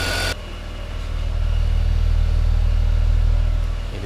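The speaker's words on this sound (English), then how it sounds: "That engine's running so sweet. That is that smooth BMW inline six that you just wish for." BMW E46 inline six idling after first repairs on a cheap wagon, a steady, smooth low hum that swells slightly and holds evenly, close and alone after a brief louder burst at the start.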